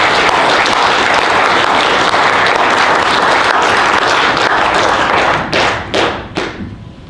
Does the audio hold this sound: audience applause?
yes